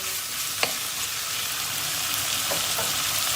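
Onion fries in a pot with a soft, even sizzle while a spoon scrapes and taps now and then as it is stirred, heard nearby without any talk.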